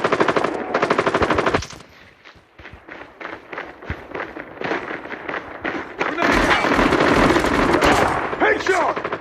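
Rapid automatic gunfire in the mobile shooter game Call of Duty Mobile, loud bursts of repeated shots with brief gaps, continuing almost without pause.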